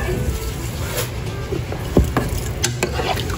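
A pot of pork sinigang with string beans, seasoned with salt and pepper, being stirred with a few soft scrapes and clinks over a steady background hiss, with no one talking.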